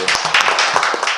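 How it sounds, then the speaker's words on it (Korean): A forum audience at a Korean constitutional-reform panel discussion breaks into brief, dense applause to welcome a speaker, loud and close, with no talk over it. "큰 박수로 모시겠습니다."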